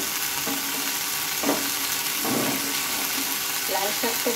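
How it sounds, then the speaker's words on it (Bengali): Cumin, coriander and chili paste frying in a pan and being stirred, giving a steady, bright sizzle with a few scraping stirs and clinks over it, and a brief bit of background talk. "মশলাটা আমি ভালোভাবে নেড়ে চেড়ে নিয়েছি।"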